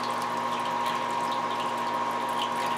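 Homebrewed wort for a pale ale runs out of a mash tun as a steady, continuous stream of flowing liquid with a faint mechanical hum underneath and no talking.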